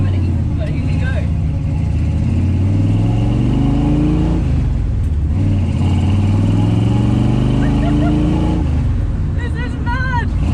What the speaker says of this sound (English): Driving an original car from Gone in 60 Seconds here in